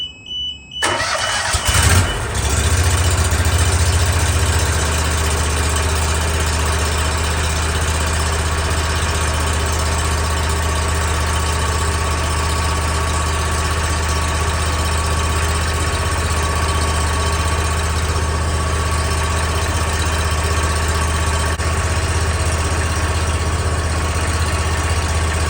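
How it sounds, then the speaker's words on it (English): A new lawn mower's engine starts after an oil change, a brief cranking catch, then settles into a steady, close low-RPM idle with an even drone that holds for over twenty seconds. "Initial start, low RPM."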